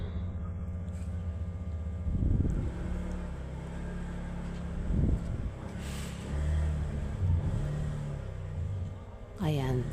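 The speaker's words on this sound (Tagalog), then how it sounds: "Ayan, may dumang motor" A motorcycle rides past, its engine a steady low rumble that swells and fades, with a brief rev near the end against a constant background hum.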